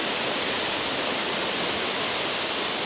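Boti Waterfalls in Ghana rush with a steady, dense roar of falling water, loud and unbroken, with no voices on top.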